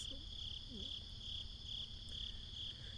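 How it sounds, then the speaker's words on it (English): Crickets chirp in a steady high, thin trill with a regular pulsing rhythm, faint and continuous, with a couple of soft low tones near the start. "All I hear are the crickets."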